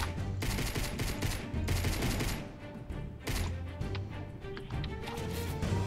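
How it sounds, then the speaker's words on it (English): Bursts of rapid gunfire in Fortnite rattle in dense, repeated volleys, loud and continuous across the stretch with only brief gaps between strings of shots. "I'm being shot a lot by someone with high ground"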